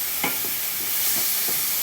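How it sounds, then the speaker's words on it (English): Ginger and garlic sizzle in a stir-fry pan, a loud broad crackling hiss close by, with several soft scraping stirs at regular intervals throughout. "I've got a bit of sizzling now, so I think I'm going to turn the heat down a little bit."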